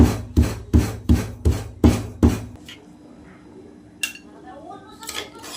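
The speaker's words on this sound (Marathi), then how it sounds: "लसूण अद्रक थोडंसं मीठ टाकून घेऊ हे ना बारीक करून घेऊ आपण" Garlic and ginger with a pinch of salt pounded by hand in a kitchen: six loud, evenly spaced thuds over about two and a half seconds, then quiet with a faint clink and soft rustles.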